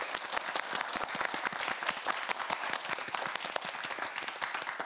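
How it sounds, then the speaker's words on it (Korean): A studio audience at a televised student quiz show applauds with steady, dense clapping throughout, fairly faint and with no talking over it. "큰 박수 부탁드립니다"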